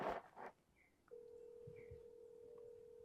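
A telephone is dialed to call someone, with a steady dial tone humming alone after a couple of brief button-press blips and some faint rustling at the start.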